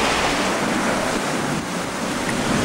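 Rough Pacific Ocean waves of five to six metres surge and rush around a Vendée Globe racing sailboat, a loud constant roar of water mixed with strong wind buffeting the microphone, with no voices.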